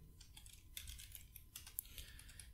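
Typing on a computer keyboard while entering code, with quick, quiet, close key clicks in an uneven rapid rhythm lasting a couple of seconds.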